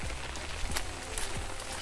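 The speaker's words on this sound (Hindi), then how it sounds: "बहुत बारिश दे रहा है" Heavy rain falls in a village, a steady, dense patter on surfaces that stays fairly close and constant, with a few louder individual drops.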